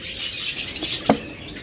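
Pet parrots, a green opaline and a green ewing lovebird pair, chirping softly in a shop cage, with brief tweets and one sharper call near the end; no talking.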